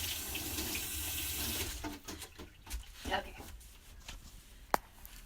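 Kitchen tap running as kale is washed off hands, a steady splashing stream that stops after about two seconds, followed by soft handling noises and a sharp click.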